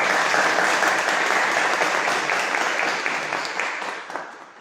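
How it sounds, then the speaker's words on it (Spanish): An audience at a book launch in Costa Rica claps in warm, sustained applause, loud and even at first, then gradually tapering off near the end. "les agradecería si damos un aplauso a Andrés."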